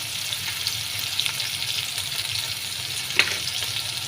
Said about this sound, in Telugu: ఉల్లిపాయ ముక్కలు ఎర్రగా వేయించుకోవాలి